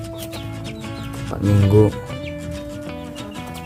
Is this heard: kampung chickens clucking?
yes